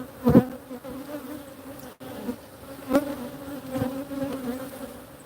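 Honeybees buzz at an open hive during an inspection, a steady mid-pitched drone with bees passing close by in brief louder swells, and no talking.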